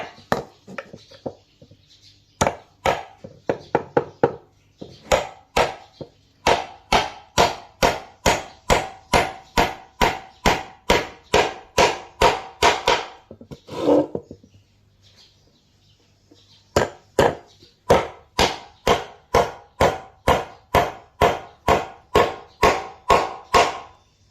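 Steady hammering on nails into wood while building a wooden stool, loud sharp blows in quick rhythmic runs, with brief pauses between bursts and no talking.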